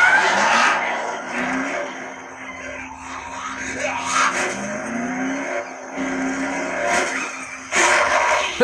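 A truck driven in the video game Dead Island revs and roars, with engine pitch rising and falling, tires squealing and skidding in several bursts, and sharp louder hits near the end.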